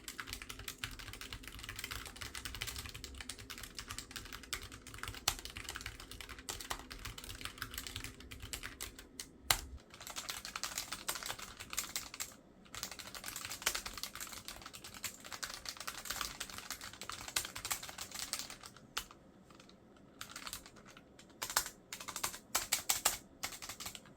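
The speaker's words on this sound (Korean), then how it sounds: "이 스위치는 리니어 스위치인데 그래도 제법 정숙한 편이에요." Steady typing on a Logitech G913 TKL wireless mechanical keyboard with linear switches, a fairly quiet, slightly rattly clatter of keystrokes running continuously with brief pauses, close and alone.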